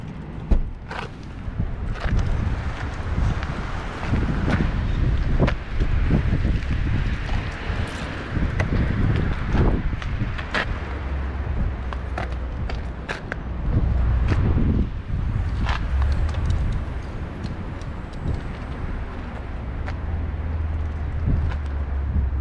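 Strong wind roars and buffets the microphone in continuous gusts outside a new Toyota Supra, with deep rumbling thumps throughout and no voices.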